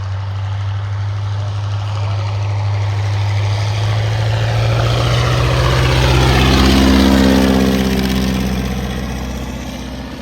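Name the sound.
vintage light aircraft propeller engine during landing approach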